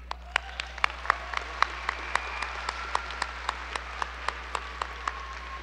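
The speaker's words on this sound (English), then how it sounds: "let's give a round of applause to our wonderful offstage announcer and teacher, Mr. Don Bailey." Audience applause at a 2015 graduation ceremony, a thin scattering of distinct claps at a moderate distance, fairly sparse and steady over a few seconds.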